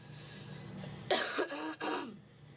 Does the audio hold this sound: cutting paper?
no